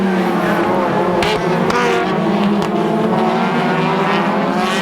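Tsuchiya's TRD Hachiroku race car battles the KMS car on a track, engines roaring loud and continuous with a steady high drone and brief shifts in pitch as the cars jostle closely.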